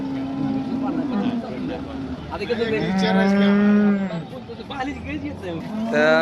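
A cow moos loudly at a cattle market, giving a long drawn-out bellow near the middle. Busy market noise and voices of people talking run beneath it.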